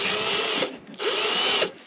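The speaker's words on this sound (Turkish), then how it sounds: "Bu da delmiyor oğlum bunu. Nasıl bir demiri var bunun ya? Heh, deldi." A power drill bores through stubborn metal in two loud, sustained high-pitched whining bursts separated by a short pause, close up with no talking.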